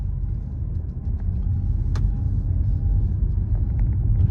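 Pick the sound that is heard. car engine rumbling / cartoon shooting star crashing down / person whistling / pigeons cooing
car engine rumbling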